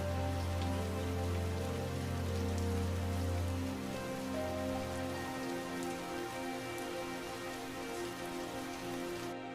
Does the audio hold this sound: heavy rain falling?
yes